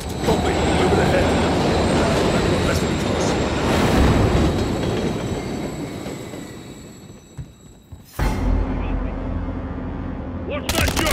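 A rumbling, clattering train rolls past in Call of Duty: Modern Warfare 3, loud and close with squealing wheels and combat noise, fading before an abrupt cut to a new scene.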